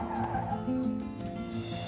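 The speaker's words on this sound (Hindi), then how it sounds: "ए चंद्रू, गाड़ी रोक, गाड़ी रोक।" A car brakes hard to a stop, its tires skidding and squealing in a sustained screech lasting nearly two seconds, loud and close with no talk over it.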